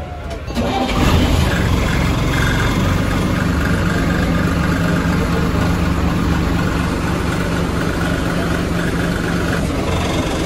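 An MSRTC Shivshahi bus cranks and fires up at Swargate depot for a night run from Pune to Latur, then settles into a loud, steady, close diesel idle that runs unbroken to the end.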